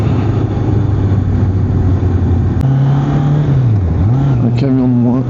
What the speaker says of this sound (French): Oh, il y a encore un camion, un bus, un camion.